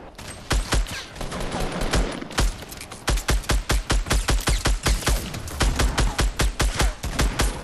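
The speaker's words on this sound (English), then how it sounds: "I'm just shooting the bush." Rapid bursts of gunfire in Fortnite, loud and close, with clustered shots in an uneven rhythm and a brief pause early on.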